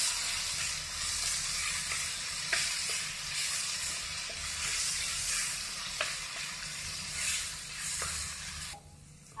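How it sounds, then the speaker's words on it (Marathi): Roasted eggplant being sautéed in a pan for Khandeshi bharit, a soft continuous sizzle with occasional scraping stirs, fairly quiet and close, with no voices. "आणि ही भाजून घेतलेली वांगी चांगलं परतून घ्यायचं।"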